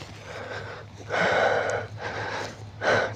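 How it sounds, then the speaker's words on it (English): Forceful, audible breaths during a yoga downward-facing dog, three long exhalations pushed out in a slow rhythm, close up with a low steady hum underneath. "Listen to my breath here. So you can see my breathing is very engaged, very active."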